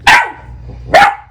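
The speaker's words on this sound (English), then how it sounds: "I've never had a dog bark at a vacuum." A pet dog named Yuki barks twice at a running vacuum cleaner, two sharp loud close barks about a second apart over a low steady motor hum.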